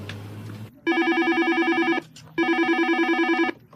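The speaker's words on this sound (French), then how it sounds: "Vous allez entendre beaucoup de sonneries aujourd'hui" A telephone rings twice, each electronic trilling burst lasting about a second with a short pause between, clear and close.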